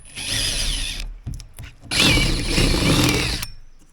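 A power drill whines loudly while backing screws out of a Mirror dinghy hull, in two long bursts separated by a short pause with faint clicks, nearby and alone.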